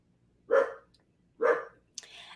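A dog barks twice, loud and close, about a second apart in an otherwise quiet room, then a brief sharper sound follows.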